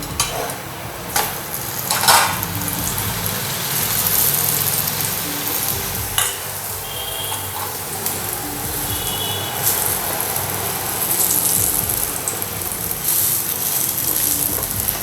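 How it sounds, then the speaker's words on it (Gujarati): Stuffed methi thepla roasts with oil on a griddle, giving a steady, soft sizzle throughout with a few faint clinks and scrapes. "પછી એને શેકવા મૂકી દેવાનું તેલ ચોપડીને પછી શેકવાના છે"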